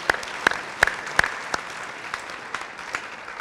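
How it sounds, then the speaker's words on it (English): Audience applauds students who helped set up for a middle school band concert, a short burst of scattered claps that peaks early and thins out over a few seconds. "Let's give those four a round of applause for helping with the setup."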